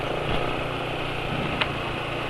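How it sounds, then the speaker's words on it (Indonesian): Motorcycle engine running on Esso 4T Pace oil, a steady close idle hum with a brief click partway through. "Suara mesin berangkat halus."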